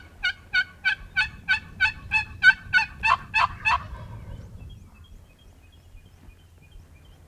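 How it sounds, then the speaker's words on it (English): A wild turkey gobbles close by in a rapid run of about eleven loud, rhythmic bursts, then falls away to quiet outdoor background. "When this bird gobbled, he was close."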